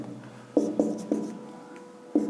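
Chalk or marker writing out the givens of a class 9 triangle geometry problem, a few short scratchy strokes in quick succession with a pause before a final stroke, close and fairly quiet over a low steady hum.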